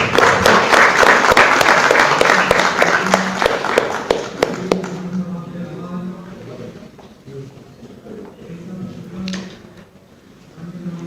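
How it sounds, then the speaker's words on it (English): Audience applause at a felicitation ceremony in the Constitution Club of India, dense and loud for about four seconds, then thinning to scattered claps with a few talking voices and shuffling underneath. "A huge round of applause."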